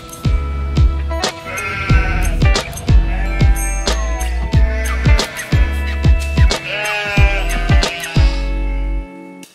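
Sheep bleat loudly and close, a series of about a dozen wavering calls from several animals overlapping in irregular bursts, with no talking.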